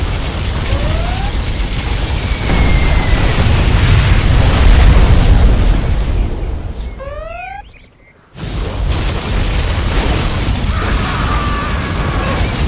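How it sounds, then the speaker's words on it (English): A nuclear missile detonates in the real-time strategy game Command & Conquer Generals Zero Hour, a loud, sustained roaring blast with rumbling low end that swells, drops out briefly, then resumes with continued noisy rumble and a few whistling tones. "Nuclear missile launched."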